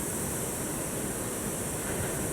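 Ocean surf at sunset rolls in as a continuous, enveloping roar of breaking waves, steady and close with no voices over it.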